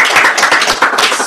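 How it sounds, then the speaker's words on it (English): Loud, close clapping from a small audience at a talk, a brief burst of irregular claps. "Round of applause."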